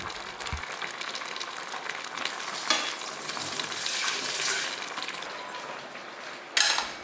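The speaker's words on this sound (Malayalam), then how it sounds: "ഇവിടെ കണ്ടോ നമ്മുടെ പഴം കുളുകുളുന്ന് തിളച്ച് വരുന്നു" Steady bubbling and sizzling from a pot of bananas boiling on the stove, a constant close hiss with brief louder bursts.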